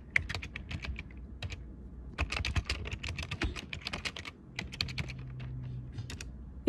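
Quick, uneven clatter of typing on a computer keyboard, close and fairly quiet, with short pauses between bursts of keystrokes.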